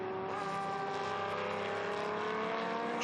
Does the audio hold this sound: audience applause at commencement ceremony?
no